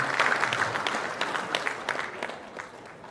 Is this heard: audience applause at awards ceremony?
yes